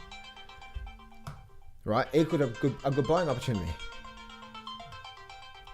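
An incoming call sets off a phone ringtone, a steady repeating melodic ring that sounds at the start and again near the end, with a person talking over it in the middle.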